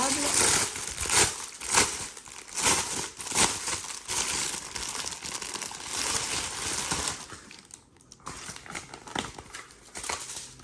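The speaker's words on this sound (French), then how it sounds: "je suis désolée pour le bruit du plastique" Plastic wrap crinkles and rustles in repeated loud bursts, close to the microphone, fading out near the end.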